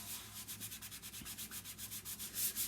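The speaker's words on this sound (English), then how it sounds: "you rub with your hands, never with a tool" Hands rub quickly back and forth over an adhesive chalk-transfer stencil, making a steady, close, rhythmic swishing of skin on sticky plastic, about eight to nine strokes a second, with no talking.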